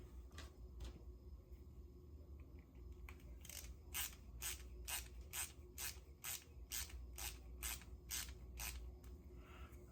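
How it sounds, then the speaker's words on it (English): Screws being driven in on the helm control of an AGORA 1/16 scale Orca model boat kit, heard as a steady run of about a dozen close, evenly spaced ratcheting clicks over a low background hum. "it's going to have 2 screws holding it in."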